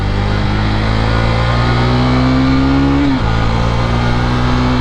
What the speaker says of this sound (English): Apparently I'm redlining the shit out of it because the shift light just loves to tell me that it's time to shift